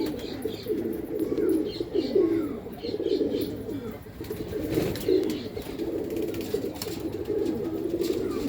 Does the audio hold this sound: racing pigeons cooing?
yes